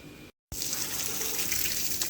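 Tap water gushing steadily into a sink during washing and rinsing, a close, continuous hissing flow that starts after a brief cut.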